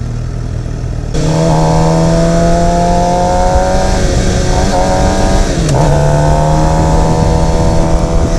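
A 2016 Suzuki GSX-R750 motorcycle roars as it accelerates while ridden, its engine note climbing steadily through the gears with one brief dip around a shift, loud over constant wind rush and no talk.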